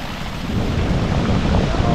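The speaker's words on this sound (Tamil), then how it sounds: "தண்ணியை மட்டும் காமிக்கிறேன் எந்த அளவுக்கு வேகமாக வருதுன்னு பாருங்கள்." Fast-flowing water at a waterfall in Munnar, a loud, dense, continuous roar filling the whole moment.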